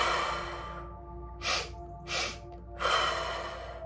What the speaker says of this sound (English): 2 inhales through your nose, and 1 exhale through your mouth